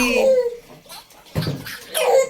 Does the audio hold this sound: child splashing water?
yes